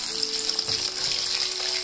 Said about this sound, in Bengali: মিডিয়াম ফ্লেমে আস্তে আস্তে এগুলো ভাজা হবে